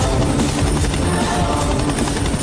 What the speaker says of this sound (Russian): А вдруг она услышит звук вертолета